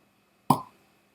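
A tight cork pops out of a bottle of Islay blended Scotch whisky with a single short, sharp plop, close and alone in a quiet room.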